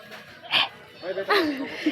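A dog gives two short barks nearby, with voices chatting in the background.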